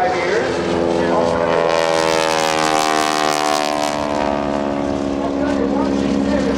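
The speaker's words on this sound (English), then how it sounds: "as the airplane flies out" A propeller airplane flies past at a naval air station air show during a wing-walking act, its loud droning engine sliding down in pitch as it passes, with an announcer talking over it.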